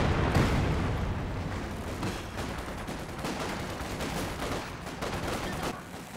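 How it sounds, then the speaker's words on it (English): Katyusha rocket artillery salvos in a Company of Heroes 2 4v4 match, a dense rumbling barrage of repeated booming launches and blasts, loud and continuous, with rolling bursts building and fading through the whole stretch. "Dude, every 5 seconds is a Katusha firing."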